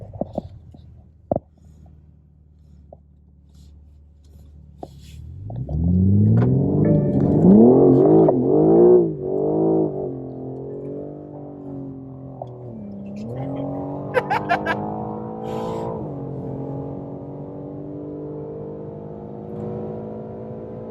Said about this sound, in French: Ça accélère pas mal, on est déjà à 230.